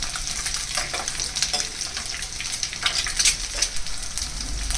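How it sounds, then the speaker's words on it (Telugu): Food sizzles and crackles steadily in hot oil in a pan, frying until golden brown for a prawn and okra curry. The bubbling is loud and close, with no talk over it. "ఈ విధంగా గోల్డెన్ బ్రౌన్ అయ్యేంత వరకు వేపుకొని తీసి పక్కన పెట్టుకోండి"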